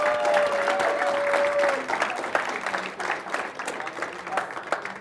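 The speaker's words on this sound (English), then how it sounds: "Can we give them, please, a big round of applause?" An audience at a startup accelerator demo day applauds for the presenting founders, steady clapping at first under a lingering tone, then thinning and becoming more scattered toward the end.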